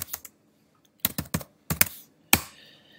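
A password is typed on a computer keyboard in short clusters of crisp key clicks separated by pauses, close and alone, ending on a single firmer keystroke.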